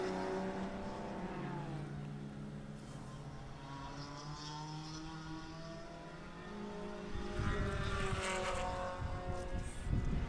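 Group 5 race cars circle the track at the O'Reilly Auto Parts Grand Prix, engines droning at shifting pitches and then swelling louder as cars pass close near the end.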